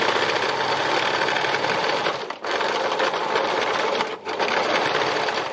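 A sewing machine does free-motion stitching on fabric with a fast, continuous mechanical whirr and clatter, heard up close. It stops briefly twice before running on again.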